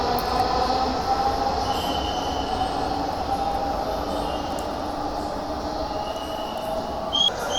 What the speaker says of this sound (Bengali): মেট্রো রেলটি কিন্তু অলরেডি ছেড়ে চলে যাচ্ছে আগারগাঁর দিকে।